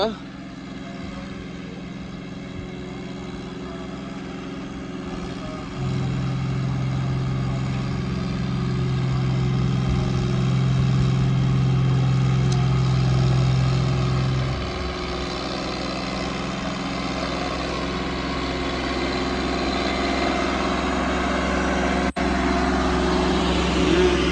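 A low, steady Swaraj tractor engine drone with a droning hum that grows louder for several seconds, then eases back, while people talk over it.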